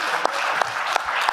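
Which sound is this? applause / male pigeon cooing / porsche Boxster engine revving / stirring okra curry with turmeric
applause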